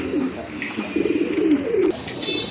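Pigeons at a pigeon market coo in several soft, rolling bursts, close by, with a faint murmur of the market behind them.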